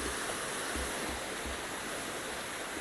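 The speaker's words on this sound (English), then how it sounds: "the waterfall." Steady rushing water from a waterfall in a video game, a dense continuous roar that stays even and fairly faint throughout, with no voices.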